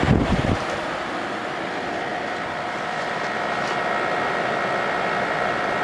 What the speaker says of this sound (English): Man, I can't believe how quiet that compressor is